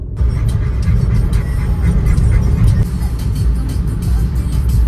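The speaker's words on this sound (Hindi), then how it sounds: "विकी फोन को रख दे जल्दी चले डॉक्टर के लगा इस गाड़ी को सीधी" Vehicle engine rumbling steadily and loudly at close range as it drives away, a continuous low roar with road noise throughout and voices faintly mixed in.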